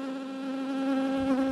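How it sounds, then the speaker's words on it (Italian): Honeybees buzz steadily and close around a beekeeper at a mountain hut apiary, forming a loud, continuous drone with no talk. "Quelle che mi stanno ronzando addosso ancora sono quelle di prima"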